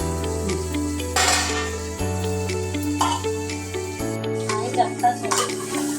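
Bitter gourd (kakarakaya) frying in a pan, stirred now and then with a utensil. A soft steady sizzle runs under intermittent scraping and clinking strokes, with background music playing throughout.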